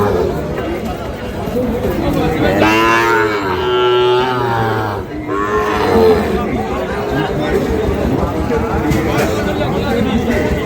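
Calves and young Sahiwal bulls moo loudly over a busy cattle-market crowd of chattering voices, with a couple of long drawn-out lowing calls.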